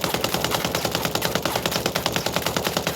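An AK47 emptying a full magazine on automatic in Ghost Recon Breakpoint, a rapid, steady stream of loud, evenly spaced shots running unbroken for several seconds.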